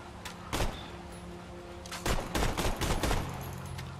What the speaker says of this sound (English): It's because it shoots three bullets at once.